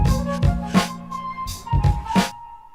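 Hip-hop beat with flute effects: punchy kick and snare hits in a steady groove under sustained tonal flute-like lines, fairly loud and without voices.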